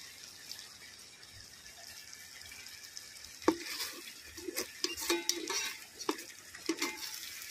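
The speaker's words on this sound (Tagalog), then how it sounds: "Stir lang natin para hindi masunog." A spoon stirs sardines sautéing in a pan, seasoned with pepper and salt for a dish with cauliflower and green peas, producing a steady low sizzle broken by scraping knocks against the pan that grow busier midway, with no talking.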